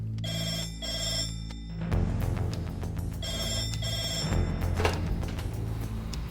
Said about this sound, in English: when that red phone rings, we're ready for action.